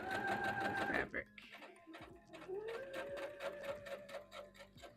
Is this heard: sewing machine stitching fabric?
yes